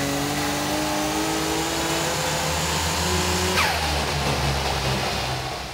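A tuned Nissan GT-R engine running on ethanol fuel with raised boost holds a loud, steady drone with a brief rising sweep partway through, heard up close without any talk.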